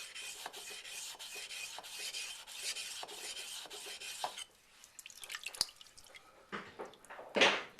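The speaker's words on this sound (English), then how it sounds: "I got the knife flat on the bevel, and as I go back and forth like this, I'm going to slowly start raising the spine like that." A knife blade stroked back and forth on a wet waterstone during convex sharpening: rhythmic, even rasping strokes, close and fairly quiet, then slower scattered scrapes and wet drips toward the end.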